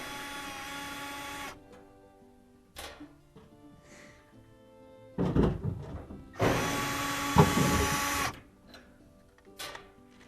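A powered driver buzzes in bursts while Phillips head screws are backed out of a gas dryer panel. Two long whirring runs come close and loud, with shorter bursts and quiet gaps between them.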